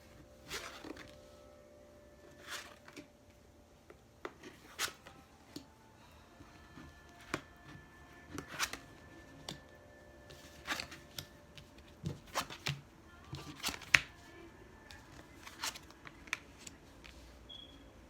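Tarot cards flipped over one by one on a table, soft papery flicks and light taps scattered at irregular intervals, quiet and close with no talking.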